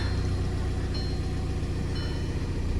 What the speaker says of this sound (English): you can hear the turbo now out of the exhaust